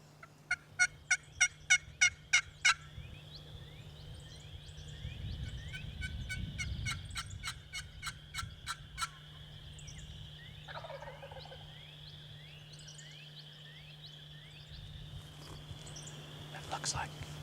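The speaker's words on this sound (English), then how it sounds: "luckily the gobble was on the edge of our field" Wild turkey gobbling from the edge of a field, a burst of rapid, distant rattling gobbles near the start, with insects trilling steadily and a low hum underneath.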